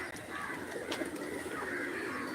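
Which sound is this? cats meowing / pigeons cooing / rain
pigeons cooing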